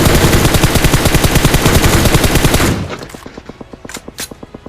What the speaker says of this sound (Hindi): लेकिन भैया उतने में आगे गोलियों की आवाज आने लगती है